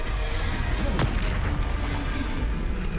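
A Confringo fire-blast spell goes off in the wizarding game Hogwarts Legacy, a loud close boom with rumbling, crackling spell effects filling the whole moment.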